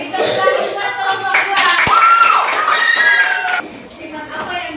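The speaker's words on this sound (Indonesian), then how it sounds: "Beri tepuk tangan buat kelompok" Classroom group of students clapping for a class group, a lively burst of hands with children's voices and shouts mixed in, close and fairly loud, fading near the end.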